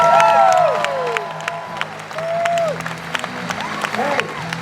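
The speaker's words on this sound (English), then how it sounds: "big round of applause for Ian McDiarmid." A convention audience at a Star Wars Weekends stage event at Walt Disney World applauds and whoops for actor Ian McDiarmid. Clapping and cheers come from a crowd, mixed with sustained tonal music and occasional shouts.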